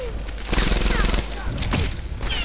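Rapid bursts of M1 Garand rifle fire in the World War II shooter Medal of Honor Airborne, loud and close with a rattling rhythm and short pauses between volleys.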